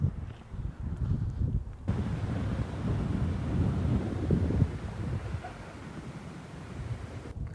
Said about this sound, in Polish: zaczęło padać i zaczął wiać wiatr